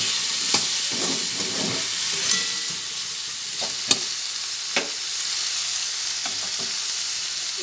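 Cut eggplant pieces dropped into a hot pan and frying, a steady close sizzle with scattered stirring clicks and scrapes throughout.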